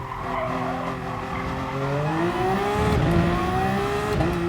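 Race car tyres skid and squeal in Gran Turismo Sport as the car overdrives a corner on worn tyres, a loud sustained screech with rising engine tones carrying steadily through the whole stretch.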